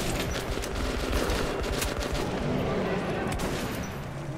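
Rapid gunfire from a first-person shooter video game, Metro 2033, with dense overlapping bursts of shots holding steady and loud throughout the whole stretch.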